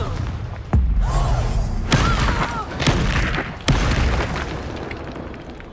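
Confringo explosion spells blasting in Hogwarts Legacy, four sharp booming hits spaced about a second apart over a rumbling game soundscape with faint whooshing effects.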